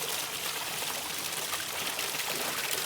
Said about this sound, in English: you also have the flowing sound of water hitting on water